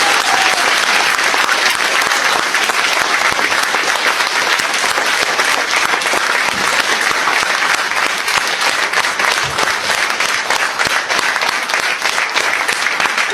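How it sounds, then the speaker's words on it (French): Loud, sustained applause from a concert audience for Charles-Édouard Fellag, a dense, even roar of many clapping hands lasting throughout without a break. "je vous invite à applaudir très fort Charles-Édouard Fellag"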